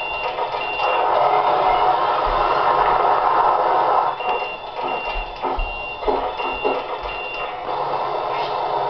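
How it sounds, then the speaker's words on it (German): In the OMSI 2 bus simulator game, a short repeated stop-request beep chimes several times over the steady rumble of the bus engine and road noise. "Also wenn sowas piepst, dann hab ich einen Haltewunsch."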